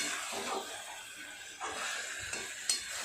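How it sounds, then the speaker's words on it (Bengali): Chicken pieces with salt being sautéed in a pan give a soft, steady sizzle with a few quiet scraping stirs, faint and close. "এবার কষিয়ে নেবো।"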